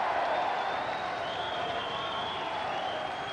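A darts crowd claps and cheers for Eric Bristow in a steady, dense wash of applause that fades slightly by the end, with a commentator's voice faintly underneath.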